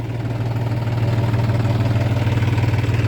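A farm tractor works a rice field, its engine rumbling steadily at close range with an even, pulsing throb that grows slightly louder after the first second and holds.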